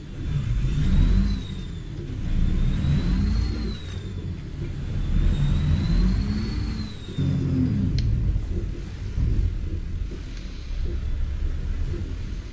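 The engine of a Mack 700 truck in American Truck Simulator revs with a loud low rumble, climbing and falling in waves and carrying a high whining tone through repeated throttle swells.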